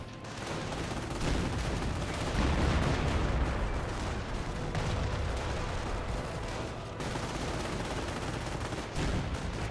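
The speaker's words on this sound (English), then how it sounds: "Black 88 still firing away" Steady, dense battlefield gunfire and booming artillery from the World War II strategy game Company of Heroes, including a German 88 gun, rumbling continuously and loudly throughout.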